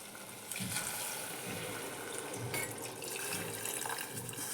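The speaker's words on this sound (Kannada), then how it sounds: "ಈಗ ಇದಕ್ಕೆ ನೀರು ಹಾಕನ್ರಿ" Water poured into a pot of drumstick and lentil curry, a continuous quiet splashing pour that holds steady for several seconds, faint and close.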